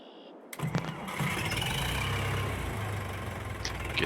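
A tractor engine cranks and catches in the Farming Simulator 22 game, then settles into a steady, moderately loud idle rumble that holds through to the end.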